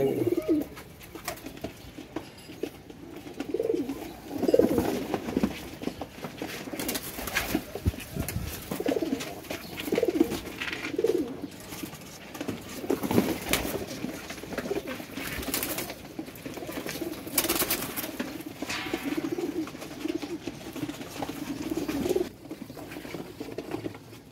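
Pigeons being counted for cargo shipping coo continuously at close range, with soft fluttering and scuffling patter throughout and occasional sharper bursts of wing movement.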